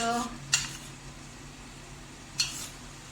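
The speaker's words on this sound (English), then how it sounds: "You can just break the mince with the spoon." A spoon stirs and breaks up mutton mince with roasted gram flour in a pan, two sharp scraping clinks of metal against the pan over a soft, steady sizzle.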